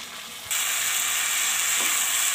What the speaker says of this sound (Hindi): तो देखिए सारी सब्जियां हमारी तकरीबन फ्राई हो चुकी हैं।